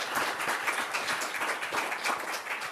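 Audience applauds a panel at the close of a clean-economy leadership launch event, with dense, steady clapping throughout and no voices over it.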